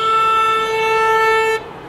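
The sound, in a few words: car horns honking at a street rally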